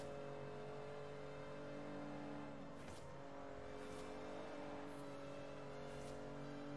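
A hybrid car with electric and gasoline motors driving, giving a steady low engine drone with a constant tonal hum and faint passing whooshes, heard from inside the cabin.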